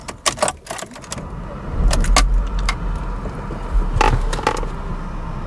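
A BMW E46 Touring cranks and its engine catches, settling into a steady low idle close by, preceded by keys jangling and small cabin clicks, with no talking.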